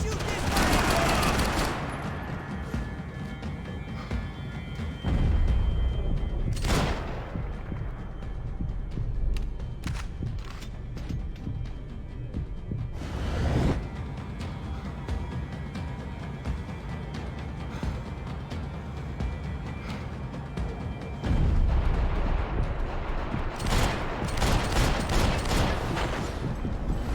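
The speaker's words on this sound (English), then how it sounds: "Gunfire over Hoboken." Bursts of automatic gunfire and scattered shots from the video game Max Payne 3, set over Hoboken, heard at moderate distance with several louder volleys over a noisy backdrop, and speech at times.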